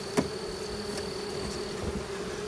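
A clustered swarm colony of honey bees drones steadily up close, with a few individual bees zipping past the microphone over the even background hum.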